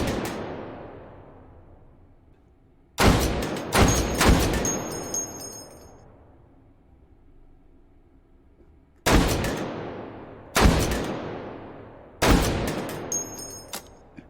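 Gunfire in the VR shooting game Hot Dogs, Horseshoes and Hand Grenades comes as sharp loud shots, a group of three, then a pause, then three more widely spaced, each leaving a long decaying ring.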